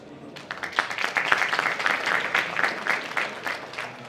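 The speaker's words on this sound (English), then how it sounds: "Please give a big applause." Audience applause at a Slush Tokyo 2019 startup conference session, a dense wash of clapping from a crowd that swells quickly and holds steady for several seconds, fairly close and loud.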